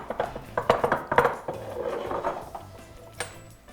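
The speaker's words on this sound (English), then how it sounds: "And just start beating the eggs together and slowly adding flour into the mix." A whisk or fork clatters against a bowl while eggs are beaten with olive oil and flour for fresh pasta dough, quick irregular clinks in bursts that thin out toward the end.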